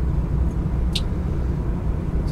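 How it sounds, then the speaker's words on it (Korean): A car crosses a speed bump at about 20 to 25 km/h, heard from inside the cabin as a continuous low road rumble with no distinct thump standing out. "이 정도로 지금 한 20km, 25km 내외로 이제 주행 중인데도 방지턱을 넘으면 이 정도의 충격이 잡히시거든요"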